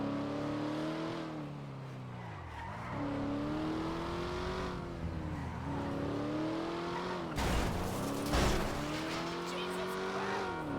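Car engine revving and shifting in a roleplay video game, rising and falling pitch with tire squeal, then a couple of sharp louder impacts of a light collision near the end, with a voice talking over it.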